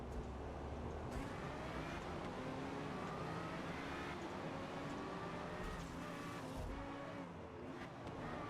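A Ferrari Scuderia race car in the Forza Motorsport video game on Xbox Series X, its engine revving and shifting continuously with rising and falling whine, other cars roaring nearby, faint and sustained, with no talking.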